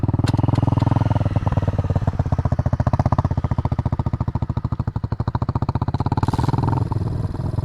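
A motorcycle engine runs at low speed during slow turn practice in a field, loud and close with a rapid, steady firing pulse that slows and varies slightly, with no speech over it.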